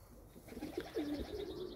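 A pigeon in a home loft gives a soft, rolling coo close by, a short throaty burst with no voices over it.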